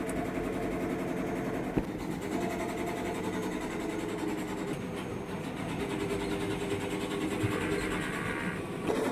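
A sublimation printer runs a print head cleaning cycle, giving a steady mechanical whir and hum with faint rhythmic ticking throughout, moderately loud and continuous with no talk.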